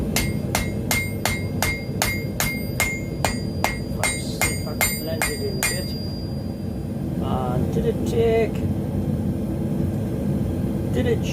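Hammer blows blending a forge weld on a dog's head hammer head, about fourteen sharp ringing metallic strikes in steady rhythm over forge roar, then the hammering stops and the roar continues.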